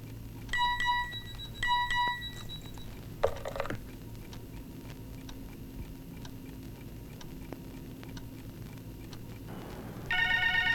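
A landline telephone rings in two short trilling bursts near the start, then gives way to quiet ticking and a faint room hum, with a brief clatter along the way.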